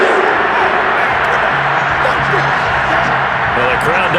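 Stadium crowd in a Madden 22 Cowboys vs. Seahawks wild card game booing and murmuring after a penalty flag, a steady loud roar of crowd noise running the whole time beneath commentary voices.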